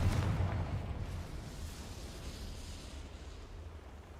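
Confringo fire spell explosion in the Hogwarts Legacy game: a deep boom at the start that fades into a long rumbling decay, with no talk.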